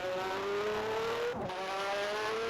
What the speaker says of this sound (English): let's watch Felipe Strafe start his first flying lap as they go through the hairpin turn 1